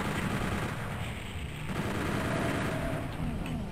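A chain gun fires in the video game Doom 64, a loud continuous rapid burst of shots filling the whole stretch without pause.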